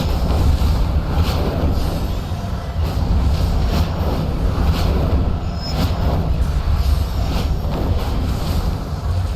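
Steady, loud rushing wind roars while a dragon soars, banks and dives in World of Warcraft, a broad continuous whoosh with gentle swells and no voices.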